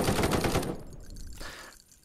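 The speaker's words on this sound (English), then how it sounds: "Press trigger button to fire." A short burst of rapid gunfire in the VR game Contractors, several quick close shots in the first moment, then tailing off into quiet reverberant echoes and faint clinks.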